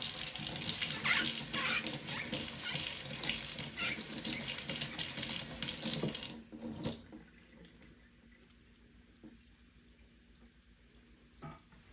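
Tap water running into a sink while milking machine parts are rinsed, a loud steady splashing gush for about six seconds that then cuts off, leaving faint drips and quiet room noise.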